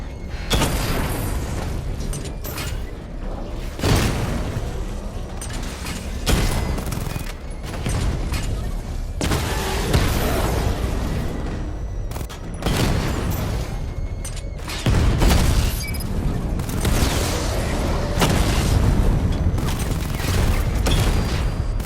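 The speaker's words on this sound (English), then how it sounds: "Charge up missile barrage to level 2 and destroy 4 active targets to complete diagnostic test" Missile barrage explosions from the Batmobile in the video game Batman: Arkham Knight burst in a dense, continuous volley of booms and rapid gunfire-like impacts, loud and relentless with mechanical clatter.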